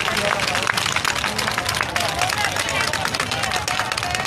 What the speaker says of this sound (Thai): ขอความกรุณาปรบมือเป็นกำลังใจให้กับพี่น้องเราให้เคลื่อนนะครับ